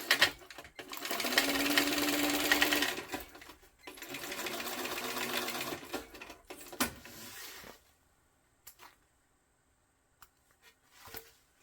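Sewing machine stitching a crossbody bag in two long bursts of whirring hum, with the metal attachment adding a rattling buzz, then scattered clicks and taps during quiet pauses.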